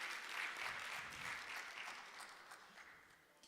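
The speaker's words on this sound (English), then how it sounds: "Let's give him a round of applause." Applause from an audience at a university postgraduate research day session, a steady broadband clatter of many hands that holds for the whole stretch and slowly thins toward the end, with no voices over it.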